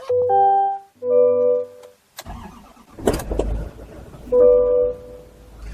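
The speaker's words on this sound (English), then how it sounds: "First thing, we'll get the engine started here." A 2024 Chevy Silverado 2500HD with the L5P 6.6 Duramax V8 diesel gives a few cabin warning chimes, then cranks and fires up into a low rumbling idle, with another chime sounding over the running engine.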